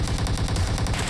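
Rapid automatic gunfire from PUBG Mobile, a dense burst of shots in quick succession filling the whole moment, loud and close with no talking over it.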